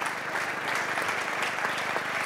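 A crowd gives sustained applause for the organizers of the Goal a Grappoli 2015 evening. Many hands clap in an even wash of sound that holds steady throughout, with no talk over it.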